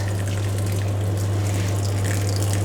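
Liquid poured gently around the edges of a chicken biryani tray, a steady close trickle and gush over a constant low hum, continuous without pause.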